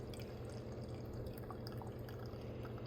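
Kenya light roast pour-over coffee draining through a filter, a faint continuous trickle with scattered soft drips and tiny liquid ticks throughout.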